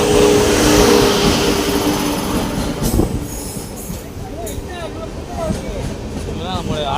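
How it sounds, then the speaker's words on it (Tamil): A train rumbles past close by with heavy broadband noise, a sharp clank midway, and faint squealing wheels toward the end. "ட்ரெயின் வந்து இருக்கு."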